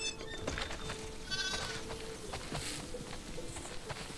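Sheep bleat faintly on a farm in The Last of Us Part 2 video game, with soft hoof clip-clops and ambient background noise.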